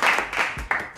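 Brief burst of clapping applause lasting about a second, a dense crackle of hands with a small surge near the end.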